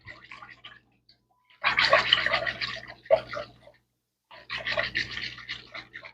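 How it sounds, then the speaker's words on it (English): Active dry yeast and sugar being whisked into water, heard as three short bursts of wet, sloshing clatter separated by quiet gaps over a low steady hum. "I'm going to whisk that together"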